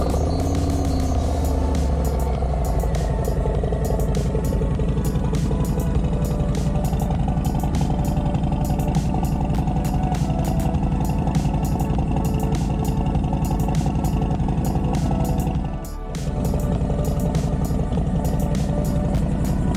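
A motorcycle engine just after a cold start runs at a steady idle for the whole stretch, a loud continuous rumble with a brief dip near the end and no talking.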